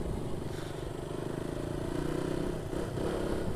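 A group of around twenty motorcycles rides together on a Saturday ride toward Sindhuli, their engines giving a steady, droning rumble with slight rises and falls.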